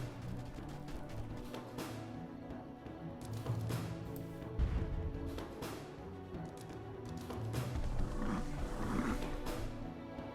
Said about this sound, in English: Sounds like a bear, not a wolf.